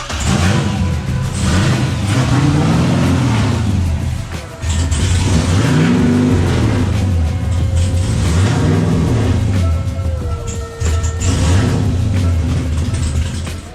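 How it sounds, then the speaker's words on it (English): Race car engine idling and revving in a track pit after a fresh start-up, loud and close with repeated rising and falling throttle sweeps, brief dips between bursts. "Car is running."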